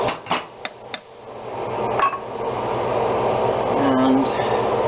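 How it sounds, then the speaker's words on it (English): A metal utensil scrapes and knocks against a cooking pot while liquid simmers over browned bits, a few sharp clanks at the start giving way to steady bubbling and sizzle, with talk over it. "Try to scrape a few more of the brown bits and other"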